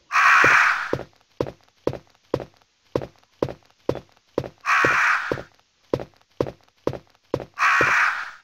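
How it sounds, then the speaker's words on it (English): Crows in the Resident Evil Director's Cut video game give three loud harsh caws spaced apart, while rhythmic footstep thuds from a walking character repeat steadily between them. "Those birds."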